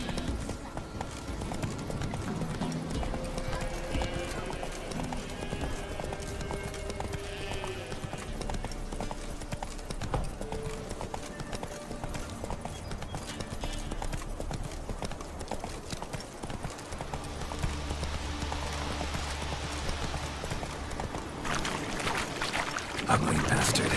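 Roach the horse galloping in The Witcher 3, rapid rhythmic hoof clip-clops running steadily under dense game ambience and music-like tones, with splashing or water-like noise partway through.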